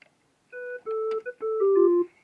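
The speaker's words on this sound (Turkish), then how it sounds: "Bu klarnet arkadaşlar." A Yamaha PSR 64 keyboard clarinet voice plays a short melody of about five sustained notes, clean and alone, stepping down in pitch toward the end.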